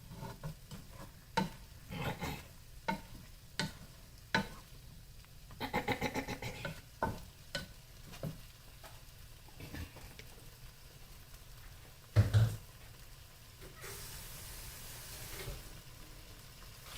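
Okra curry with tamarind being stirred in a pan, giving a series of soft scraping strokes at an irregular pace, with a gentle sizzle in places and no talking.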